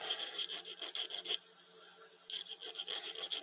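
Hand file rasping the burr off the end of a gun pin in close, rapid back-and-forth strokes, with a pause of about a second before the filing resumes.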